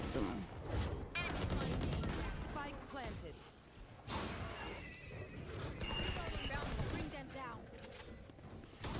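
Rapid gunfire from the shooter game Valorant rings out in dense, loud bursts and a sustained volley, with players talking over much of the action.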